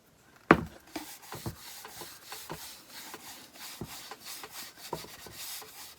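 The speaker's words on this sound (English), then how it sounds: "Now I've decided to put a coat of this paste finish and wax special dark again" A cloth rubs paste finish wax into a sanded wooden craft piece, giving soft, quiet repeated swishing strokes with an irregular rhythm, close by and alone, starting with one sharper knock.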